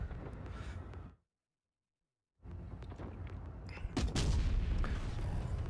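Loud booming cannon blasts from the tank battle game World of Tanks Blitz, with a sudden stretch of total silence before the heavy explosive shots and rumble resume.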